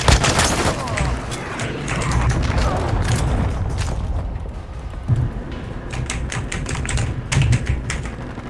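Rapid gunfire from Call of Duty: Modern Warfare II in a Search and Destroy multiplayer match, dense crackling bursts running continuously at fairly close range, with occasional louder shots standing out.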